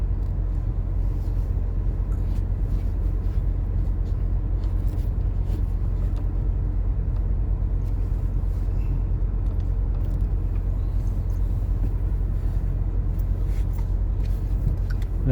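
Inside a vehicle cruising at 98 km per hour on the road toward Batha, a steady, deep engine and road rumble drones evenly throughout, with faint ticks and rattles above it and no talk.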